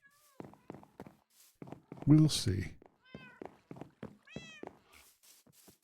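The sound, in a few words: cats meowing in the video game Minecraft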